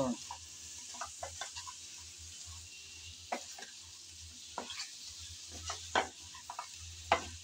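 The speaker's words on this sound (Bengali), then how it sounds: "সব দিয়ে ভালোভাবে নেড়ে চেড়ে আবারও একটু কষিয়ে নেব" Ground spice mixture stirred and fried in a pan for an eggplant dish, soft sizzling under intermittent scraping clicks of a spoon, fairly quiet and close.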